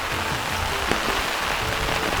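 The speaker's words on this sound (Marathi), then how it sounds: "खूप पाऊस पडतोय, बघू शकता" Heavy rain pours down at a coffee estate in Chikhaldara, Maharashtra, making a dense, loud, continuous roar of drops. One faint knock sounds partway through, and no voices are heard.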